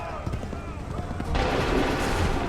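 A volley of musket fire erupts in Assassin's Creed III, a dense crackling barrage that starts abruptly midway and keeps rolling to the end, with voices heard throughout.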